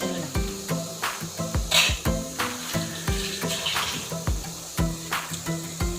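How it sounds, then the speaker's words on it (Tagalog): A pot of bagoong shrimp-paste broth boils steadily, with rapid bubbling pops and gurgles in an uneven rhythm, close up and fairly quiet. No one speaks. "Ayan, kumukulo na."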